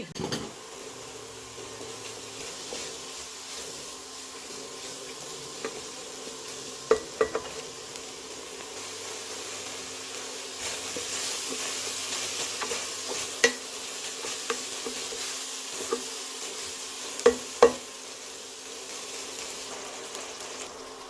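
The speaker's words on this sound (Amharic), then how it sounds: "አሁን ሽንኩርታችንን እናቁላላለን። አንድ ራስ ቀይ ሽንኩርት ከትፍ ያለው" Red onions sauté in a non-stick pan for an Ethiopian tilapia stew, making a steady low sizzle with occasional sharp utensil taps and scrapes, close and moderately quiet throughout.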